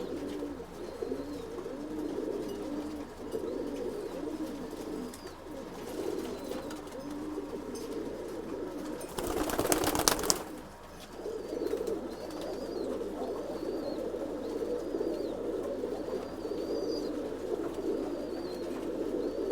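Old bloodline pigeons cooing steadily in a loft in Bangalore, many birds overlapping in a continuous soft burble, with a brief burst of rustling or flapping in the middle.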